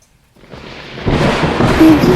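Thunder rolls in from silence as rain begins, a low rumble swelling over about a second into a dense, loud wash of rain noise that keeps building to the end.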